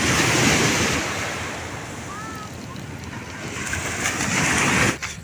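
Sea waves washing onto a beach shore, a steady loud surf roar with gusts of wind buffeting the microphone, easing slightly midway and then building again near the end.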